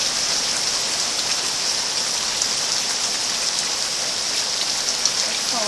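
Hail pours down on the ground during a Florida storm as a dense, steady hiss of countless impacts, loud and continuous with no pauses.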